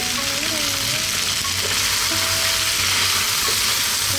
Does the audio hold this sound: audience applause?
no